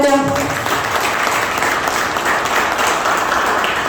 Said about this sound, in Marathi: त्यांच्यासाठी एकदा जोरदार मनापासून टाळ्या होत्या